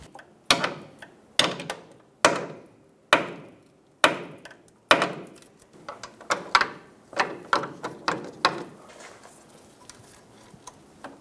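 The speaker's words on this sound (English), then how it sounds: "I'm going to use a hammer and tap it on." A hammer taps a socket onto the cut-off power steering line fitting of a 2005-2015 Toyota Tacoma rack, a string of sharp metallic knocks spaced about a second apart, then quicker and lighter toward the end, close and alone.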